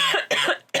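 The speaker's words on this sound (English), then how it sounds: "Stop coughing." Two or three short, harsh coughs burst out in quick succession, close and loud.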